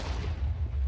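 Minecraft explosion, a dense low rumbling boom that fills the whole moment with sustained bassy roar, loud and close, no voices over it.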